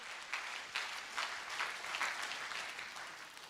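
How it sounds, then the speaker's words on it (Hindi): An audience claps for the gurus at a CLIA Welfare Association gathering in Vrindavan, a steady crowd applause with rhythmic peaks that is fairly distant and soft, continuing evenly for several seconds. "उन सब गुरुओं के लिए एक बार जोरदार तालियां होनी चाहिए"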